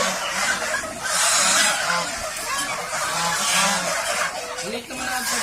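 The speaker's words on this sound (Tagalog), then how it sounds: "Ang dami gansa, oh." A flock of farm geese honks repeatedly, overlapping nasal calls rising and falling in a steady, fairly close chorus, with some faint voices in the background.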